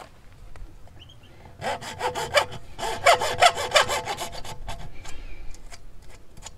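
A hand saw cuts through PVC pipe in quick rasping strokes, starting faintly, then growing louder and faster before tapering off, with no talking.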